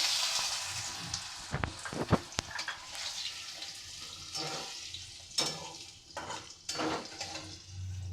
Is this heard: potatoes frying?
yes